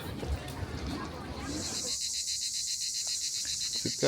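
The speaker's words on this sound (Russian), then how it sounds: "Цикады" A shrill, pulsing buzz of cicadas on a Crimean night rises and holds steady, with a faint voice and background murmur underneath at the start.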